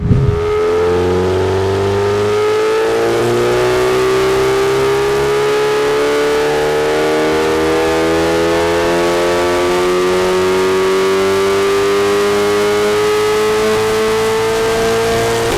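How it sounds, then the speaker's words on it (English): A turbocharged Cupra engine revs steadily upward through a long run, its loud, rising drone continuous and close, with clutch slip in the pull and no voices over it. "So you probably heard from that run there's a bit of clutch slip happening."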